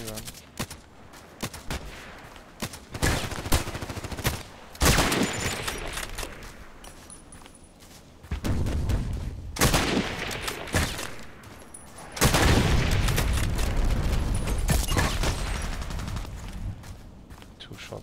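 Rapid bursts of video game gunfire during a sniper contract mission, loud clusters of shots around two, five, ten and twelve seconds with quieter stretches between, mixed with a voice talking.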